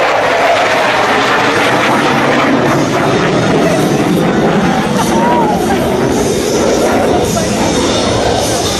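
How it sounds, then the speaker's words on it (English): An F-16 Fighting Falcon fighter jet flies an airshow demonstration at MCAS Miramar, giving a loud, continuous jet roar that fills the whole stretch, with a crowd or announcer faintly audible beneath. "how exceptional the F-16 is in a 9G turn"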